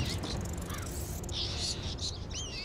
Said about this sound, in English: They sound like bats when they do that clicking noise.